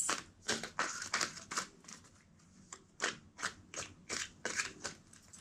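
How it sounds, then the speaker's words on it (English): A deck of tarot cards is shuffled close by in quick repeated bursts, each riffle a papery rapid flutter separated by brief pauses, with no voices. "2 more shuffles."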